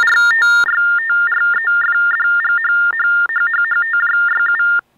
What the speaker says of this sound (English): you might hear the user pressing the spacebar or other keys that'll generate baud tones